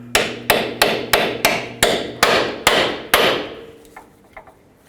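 Nine sharp metallic hammer strikes ring out at a steady beat on a 24mm socket seated over a badly rusted ball joint nut on a 2001-07 Toyota Sequoia front suspension, loud and close, then a few faint taps as it trails off.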